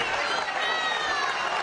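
A crowd at a Maduro rally in Venezuela voices approval with a dense, steady wash of cheering and clapping, loud and continuous throughout.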